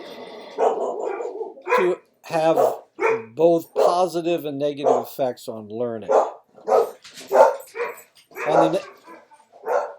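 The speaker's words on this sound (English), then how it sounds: "those are my dogs" Pet dogs bark and yip excitedly in a home as the owner returns, sharp repeated barks under continuous lecture speech.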